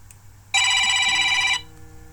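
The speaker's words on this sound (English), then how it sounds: "Sorry about that phone ring." A telephone rings once in a steady, loud electronic burst lasting about a second, close by, over a faint background hum, with no talk.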